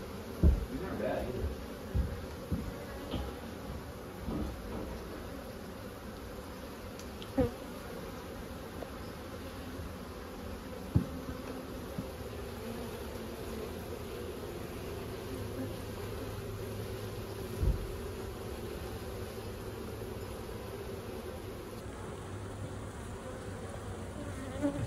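A steady, soft buzzing of many honeybees close by in a barn, continuous throughout with a few faint knocks and bumps.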